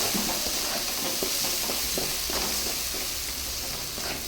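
A dried fish chutney mixture with salt and turmeric is stirred in a hot pan, with a steady sizzle and frying hiss throughout and repeated soft scrapes and taps of the spoon, close and continuous, with no one talking.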